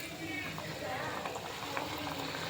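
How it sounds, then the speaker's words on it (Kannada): Wheat flour biscuit snacks fry in a pan of hot oil, giving a steady, dense sizzle and bubbling that carries on evenly throughout with no talking. "ಇದನ್ನು ಎಣ್ಣೆಗೆ ಹಾಕೊಂಡು ಬನ್ನಿ ಎಣ್ಣೆ ಕಾಯ್ತಿದೆ ಬಬ್ಬಲ್ಸ್ ಬರ್ತಾ ಇದೆ"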